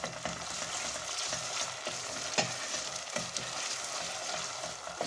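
Tomato paste sizzling and frying in a pan for a vine-leaf dish, a steady close crackle with occasional stirring scrapes, no voices.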